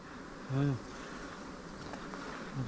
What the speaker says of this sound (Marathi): कापल्यामुळे सगळ्या माश्या ज्या आहेत उडाल्यात आणि कोणत्याही क्षणी चावूसुद्धा शकतात